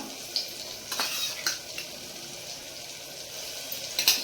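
Chana masala curry is stirred in a pan, with soft scraping spoon strokes and a few clinks over a quiet bubbling simmer.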